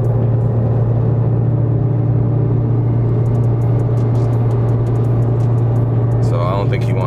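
A steady, loud engine rumble from a stage 4 turbo BMW 335i M3 running E85 fuel. It sounds close and continuous with no talk.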